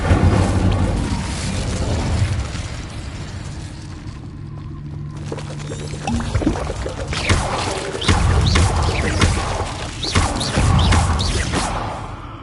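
Incendio fire spells bursting in Hogwarts Legacy, with a series of loud booming, whooshing fiery blasts and crashes across the stretch, a quieter lull in the middle before repeated impacts resume.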